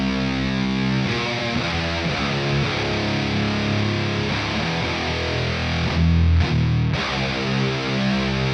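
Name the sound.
distorted high-gain electric guitar with palm mutes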